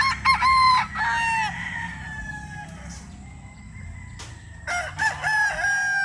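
A Raptor Sweater gamefowl rooster on a farm crows loudly and close by, giving two long crows, one at the start and one near the end, with a few short clucks and rustling between them.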